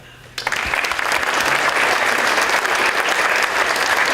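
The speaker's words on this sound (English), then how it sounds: "One more round of applause for all of them." Loud, sustained applause from a crowd at an awards ceremony starts abruptly after a brief quiet moment and continues steadily throughout.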